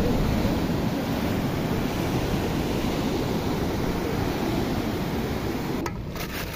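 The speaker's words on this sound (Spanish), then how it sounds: "Así de frente al mar." Sea waves washing on the shore of Isla San Lorenzo, a continuous broad roar of surf with wind noise, loud and steady, with no talk.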